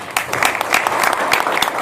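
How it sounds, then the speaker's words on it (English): A room full of people breaks into a loud round of applause for a guest speaker at a business meeting, with dense, continuous clapping and occasional sharper individual claps standing out. "I think the round of applause is really good"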